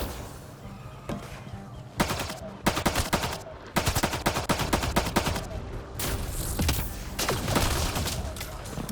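Gunfire in the video game Mass Effect: Andromeda comes as repeated rapid bursts and single sharp shots over a dense battle background. The shots are loud and fairly close.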